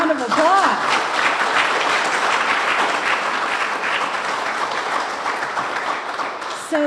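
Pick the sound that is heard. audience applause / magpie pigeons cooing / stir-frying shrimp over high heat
audience applause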